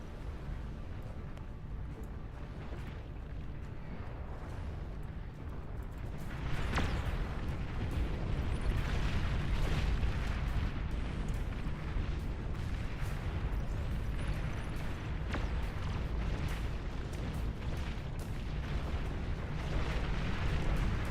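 Heavy, continuous rumbling barrage of mortar explosions in the real-time strategy game Beyond All Reason, dense overlapping booms that swell louder partway through, with no talking.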